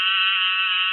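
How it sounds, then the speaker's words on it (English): An Eastern narrowmouth toad gives a single loud, sustained nasal buzz resembling a sheep's bleat, close and alone with no other sounds. "Eastern narrowmouth toad, perhaps one of my favorite sounding frogs, so I have to play him for you."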